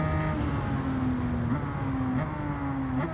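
A Subaru Impreza with a swapped Porsche engine in Gran Turismo 7 holds a steady, loud engine drone with rising pitch through the gears and quick shift changes, close and continuous.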